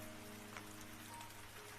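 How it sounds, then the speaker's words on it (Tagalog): Soft rain pattering steadily on the roof of a coffee shop, a dense, even wash of fine drops with no voices, constant and close throughout. "Mahinang bumubuhos ang ulan"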